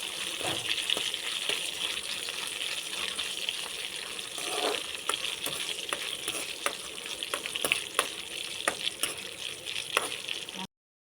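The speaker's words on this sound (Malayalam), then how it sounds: "ഇനി ഇതിലേക്ക് കുറച്ച് കറിവേപ്പിലയും കൂടി ഇട്ട് രണ്ടും കൂടെ നന്നായിട്ട് മൂപ്പിച്ചെടുക്കാം." Dried red chillies and curry leaves fry in hot oil, a continuous crackling sizzle with sharp pops and stirring scrapes, close and fairly quiet, cutting off abruptly at the end.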